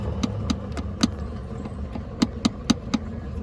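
Sharp clicks come from a worn suspension bump stop on a Volkswagen Gol or Voyage, a series of distinct knocks, some irregular and some close together, over a low car engine hum.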